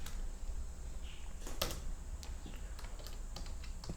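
Keys clatter on a computer keyboard while code is typed for an Android app, with a few sharp, irregular taps over a steady room hiss and no voice.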